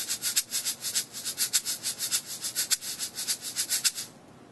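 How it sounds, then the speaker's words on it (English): A sand-filled shaker held wide in the hand is shaken in a steady, even rhythm of about two dozen crisp, hissing strokes, close and alone, before stopping abruptly. "Two very different shaker sounds. First, I'm going to do it so that it's wide in my hand."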